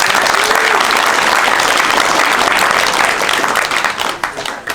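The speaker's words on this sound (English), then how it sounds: "So let's have a good applause." A town hall crowd at a Bigfoot meeting in Metaline Falls bursts into loud, dense applause up close, sustained and even before tapering off slightly at the end.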